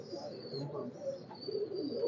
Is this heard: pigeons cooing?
yes